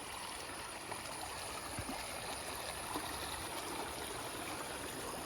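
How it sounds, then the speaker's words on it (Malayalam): River water in the Idukki countryside flowing steadily, a continuous broadband rush with no pauses, moderately loud and even throughout, no voices. "നല്ല വെള്ളം വരുന്ന പുഴയത് കേട്ടോ"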